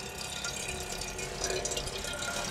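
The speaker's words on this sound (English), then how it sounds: "Really comfortable to use a water dispenser, an electric water dispenser." Steady hiss and splash of water running from an electric water dispenser at a roof top tent wild camping spot, close and continuous for a few seconds.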